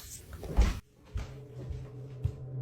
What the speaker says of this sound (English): what could have closed that door if it wasn't the air?